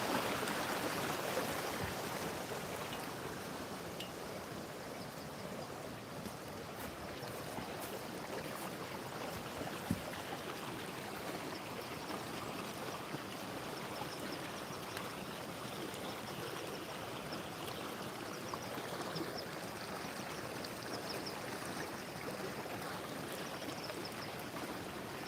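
A flooded river in Kenya rushing along in a steady, dense wash of flowing water, continuous and fairly close with no pauses or voices.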